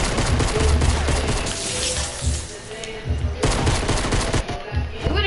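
Dense, continuous gunfire in Fortnite, heavy overlapping bursts with booming low thumps filling the whole stretch at high volume.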